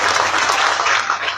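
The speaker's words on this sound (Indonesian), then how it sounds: "Oke, tepuk tangan untuk beliau." Steady applause from a crowd, dense clapping that fills the whole moment without a break, fairly loud and close.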